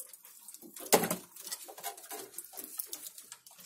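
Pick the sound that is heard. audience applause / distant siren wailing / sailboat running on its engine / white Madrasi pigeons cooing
white Madrasi pigeons cooing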